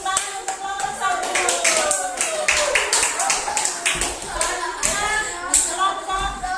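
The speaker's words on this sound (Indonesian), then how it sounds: "tepuk tangan untuk kelompok 1" Classroom clapping for a student group after their presentation, a steady patter of many hands with voices mixed in beneath it.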